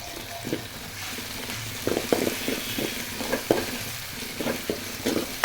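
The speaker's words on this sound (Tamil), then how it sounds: "இந்த இஞ்சி பூண்டு பேஸ்ட் அந்த பச்சை வடை போகிற வரைக்கும் நல்லா வந்து வதக்கணும்." Ginger garlic paste sizzles as it is sautéed with onions in a pan for chicken gravy. The steady frying hiss is broken by repeated scraping stirs of a spoon.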